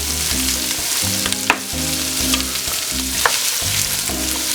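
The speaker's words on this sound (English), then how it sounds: "Stir this around and wilt" Rainbow Swiss chard stems, onion and salt fry in a pan, crackling and sizzling steadily while being stirred, with short rhythmic scraping strokes and no voices.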